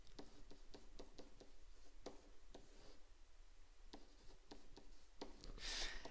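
A pen writes math notation on paper in a quiet room, with steady small scratching strokes and taps, close and soft, running continuously and alone.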